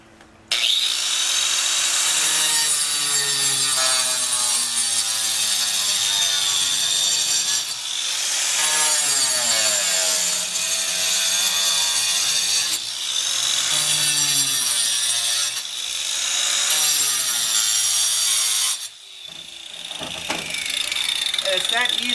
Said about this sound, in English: I'll take my grinder and I'll keep good grip on my grinder.